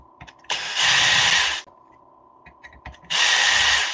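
A power driver backs 2mm bolts out of an Arrma RC car carbon chassis in two loud, whirring bursts, close up, with quiet handling clicks between them.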